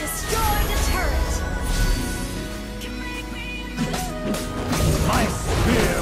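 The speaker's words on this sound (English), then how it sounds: "Your team destroyed a turret." A turret being destroyed in Mobile Legends: a loud smashing crash with thwacking hits amid steady game music and effects, with voices in the mix.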